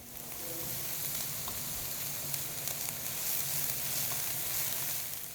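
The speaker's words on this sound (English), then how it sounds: "We're going to sweat these onions down for about 3 minutes." Onions sweating in a pan for vegetarian stuffed peppers, a soft, even sizzle with a faint hiss running throughout, heard alone at low volume.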